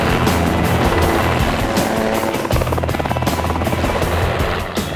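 A mustering helicopter flies over cattle country in the outback, its loud, close rotor chop and engine whine throbbing steadily throughout.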